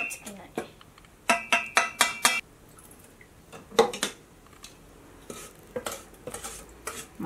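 Ingredients for candy apples being mixed in a pot, a run of quick metallic clinks and scrapes from a utensil against the pot in bursts, with quieter clatter and brief voices between.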